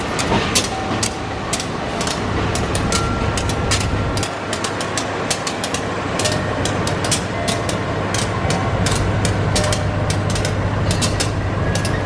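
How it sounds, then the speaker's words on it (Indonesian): The KA Serayu train rolls into track 3 at Cibatu station with a steady heavy rumble and rapid, regular clacking of wheels over rail joints, loud and close for the whole stretch. "Masuk jalur 3 ini KA Serayu bakal bersilang dengan KA Lodaya"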